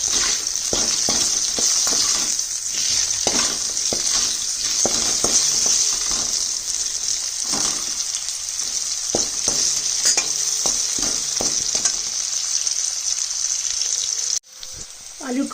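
Potatoes fry in a pan with turmeric and salt for a rohu fish curry with lentil dumplings and drumsticks, a loud continuous sizzle broken by repeated spatula clinks and stirring scrapes, cutting off briefly near the end.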